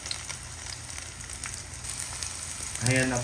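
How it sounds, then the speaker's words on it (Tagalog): Garlic, onion and ginger sautéing in a pan for beef broccoli, a steady soft sizzle with a brief voice speaking near the end. "Inigisa ko na po ang ating bawang, sibuyas at ang ating luya."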